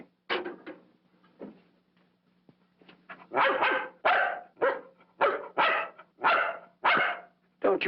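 A dog barks repeatedly in loud, sharp bursts, about ten barks in an irregular run that grows louder and more insistent toward the end, close by in a quiet indoor room with a low steady hum beneath.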